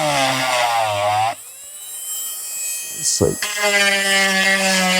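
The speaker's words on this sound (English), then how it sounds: "We've got our Hyper Tough Dremel from Harbor Freight." A Hyper Tough rotary tool trims a motorcycle snorkel on a Honda CRF300L, giving a steady high motor whine that runs, drops away for a couple of seconds, then returns loud and close.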